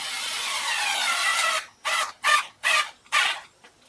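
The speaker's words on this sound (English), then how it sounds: "So let's go ahead and put these screws in." Four short bursts of a power drill driving screws into a wooden Lazy Susan, following a longer steady whir, each burst separated by brief silences and heard up close.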